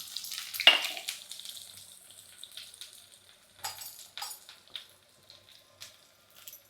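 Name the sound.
shallots sizzling in hot oil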